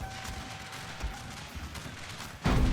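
Soldiers firing in a strategy video game set around a British military campaign, a busy wash of distant volleys and crackling shots with a sudden louder burst of fire at the end.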